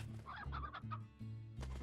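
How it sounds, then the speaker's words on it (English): Hens clucking in Slime Rancher, a few soft, close cluck phrases repeating with a low ambient hum beneath, faint and without talk. "Yeah, these are just regular hens."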